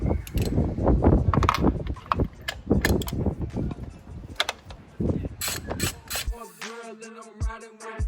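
A 3/8-inch ratchet with extension and spark plug socket loosening the spark plugs on a Honda Integra, rapid close clicking pawl bursts in repeated runs, ending with a sustained ringing metallic tone.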